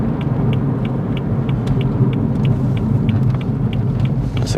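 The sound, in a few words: car pulling over on road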